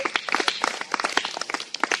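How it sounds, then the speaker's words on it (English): Parents gathered at a youth 14U/15U spring football event get a round of applause, scattered sharp individual claps from a small group, close and irregular, with no voices over them. "give the parents a round of applause for all that support they put in"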